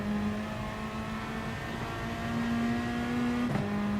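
A race car engine in the driving game GT Sport, on the Dragon Trail Seaside circuit, holding a steady high drone at constant revs with a brief shift near the end, close and continuous.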